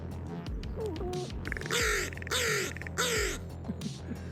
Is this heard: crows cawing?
yes